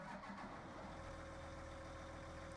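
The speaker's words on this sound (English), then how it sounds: "Now let's quickly fire it up and listen to the engine sounds." A John Deere 9RX tractor engine in Farming Simulator 19 starts and settles into a steady, loud mid-pitched run that fills the whole stretch, with no talking.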